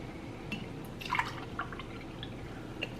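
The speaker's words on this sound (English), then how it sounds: "See how well it filtered, turning soda into water." Soda trickles through a homemade filter meant to turn it into water, giving a few quiet, irregular drips and tiny splashes over low background noise.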